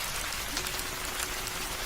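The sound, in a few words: rain falling in a cartoon horror story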